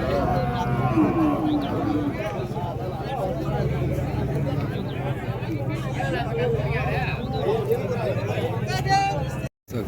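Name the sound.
cattle mooing at a cattle market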